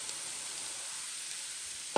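Spices and chilli fry in hot oil in a pan for a Kerala tapioca masala, a soft steady sizzle with a faint stir near the end, no voices.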